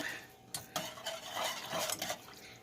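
Dehydrated potatoes being mixed with two cups of warm tap water in a bowl, a few close scraping and clinking stirs with soft sloshing, no talking.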